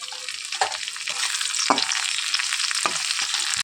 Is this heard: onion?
yes